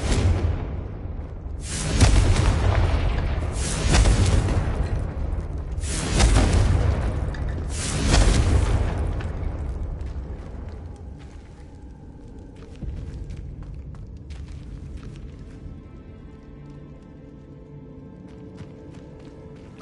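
Confringo fire spell explosions in Hogwarts Legacy on PlayStation 5: four loud, heavy booming blasts in quick succession, each with a rushing whoosh, fading into quieter game ambience.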